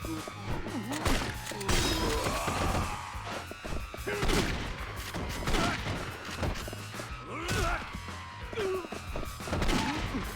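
Repeated gunshots and impacts from a Yakuza 3 brawl, sharp bursts cutting through a dense, busy mix of hits and crashes over roughly ten seconds, with no voices.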